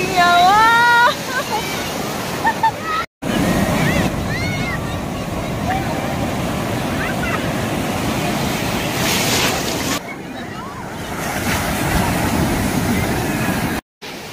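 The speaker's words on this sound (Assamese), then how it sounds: "বহুত ডাঙৰ ডাঙৰ ঢৌ আহে" Big ocean waves break and roll onto Radhanagar beach on Havelock Island, Andaman, a loud, sustained surf roar with wind buffeting the microphone. A faint, warbling voice-like sound is heard briefly at the start.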